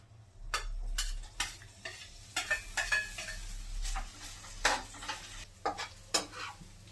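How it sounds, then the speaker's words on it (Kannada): Paneer frying in ghee in a pan, with soft sizzling broken by sharp, intermittent stirring scrapes and clinks of a utensil against metal; quiet and with no voices. "ಇವಾಗ ತುಪ್ಪದಲ್ಲಿ ಪನ್ನೀರ್ನ ಫ್ರೈ ಮಾಡ್ತಾ ಇದೀನಿ."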